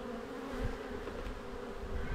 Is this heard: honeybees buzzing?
yes